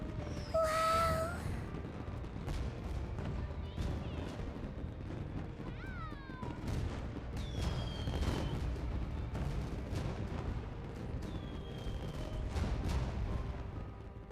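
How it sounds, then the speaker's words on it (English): Summer fireworks in the Persona 5 Strikers video game crackle and pop continuously at close range, with whistling launches rising through the dense bursts and a few brief voices mixed in. "I never saw fireworks from that close up before"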